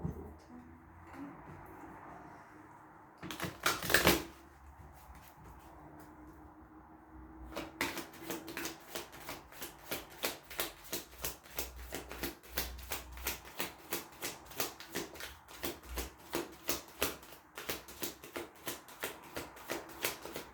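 Tarot cards are shuffled by hand in a steady, rapid riffling rhythm of soft slaps and flutters, close and fairly quiet, after a brief louder burst of handling near the start.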